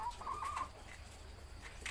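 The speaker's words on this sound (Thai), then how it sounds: "มาเบิ่งไก่ออกไข่พี่น้อง" Laying hen clucking at close range, a short quiet burst of a few clucks at the start followed by faint background.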